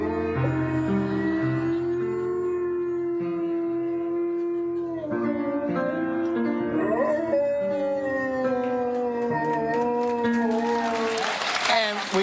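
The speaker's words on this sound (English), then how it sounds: "Here's Michael Baker's dog, Oscar." A pet dog named Oscar, a contest finalist, howls and yips in long wavering tones over a live television studio broadcast, with audience applause swelling near the end.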